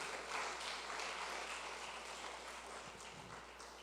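A church congregation applauding during a sermon, a faint, even wash of many hands clapping at a distance, steady throughout without voices on top.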